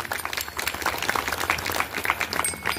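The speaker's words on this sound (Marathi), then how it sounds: "त्यांच्यासाठी मोठ्याने टाळ्या वाजवा सर्वांनी" Audience at a kirtan gathering in a temple during Shiv Saptah claps loudly, dense rapid hand claps forming a continuous roar of applause that stays strong from start to finish.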